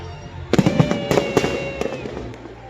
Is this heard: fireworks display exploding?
yes